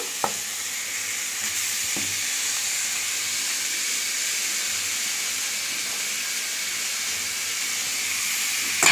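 Chicken pieces dropped into hot fried spices sizzle steadily in the pan for the full stretch, a loud even hiss with a couple of soft clinks near the start and end, no voices.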